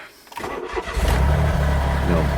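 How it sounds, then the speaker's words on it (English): A Smart Roadster Brabus Coupe engine with a cylinder 1 misfire cranks and catches, then settles into a steady, close idle with a low rumble. "So you start the car"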